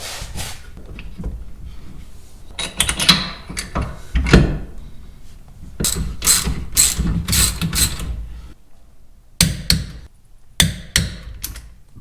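A ratchet wrench tightens the bolts on a rear big-brake SRT caliper upgrade on a Gen 2 1996–2002 Dodge Viper. It clicks in close, repeated bursts separated by short pauses, with metallic knocks and handling noise between the strokes.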